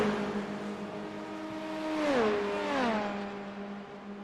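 Race car engine in a Le Mans endurance racing video game, a steady whining drone that swells and dips in pitch as a car passes by, heard alone without talk.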